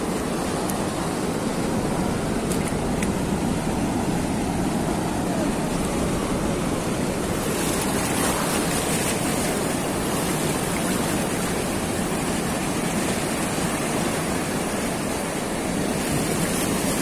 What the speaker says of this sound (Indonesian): Suara deru ombak pantai.